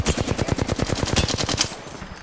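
Automatic gunfire in the video game Apex Legends, a rapid loud burst of evenly spaced shots running for about two seconds before cutting off.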